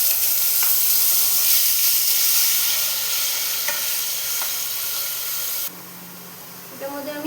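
Coarsely ground onion and green chili paste fries in a pan with a loud, steady sizzle and hiss that drops abruptly quieter near the end.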